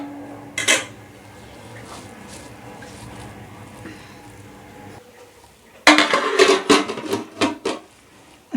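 A plate set down over a cooking pot of beef for biryani, giving a sharp clatter near the start and then a burst of repeated metallic clinks and scrapes later, close and loud over a quiet kitchen background.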